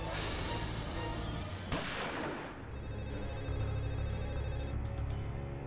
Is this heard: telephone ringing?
yes